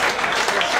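Applause from a studio audience at a live Italian variety show, a steady dense burst of clapping filling the whole short moment, loud and close.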